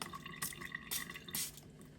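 A hand spray mister filled with half vinegar and half water spritzes onto thrift-store drinking glasses in three short, evenly spaced hissing puffs, quiet and close.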